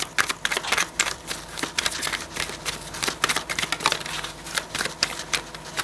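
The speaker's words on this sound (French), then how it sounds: "Je brasse un petit peu les cartes." Playing cards are shuffled by hand in a rapid series of crisp riffles and flicks, close and fairly loud, with an uneven rhythm and no voices.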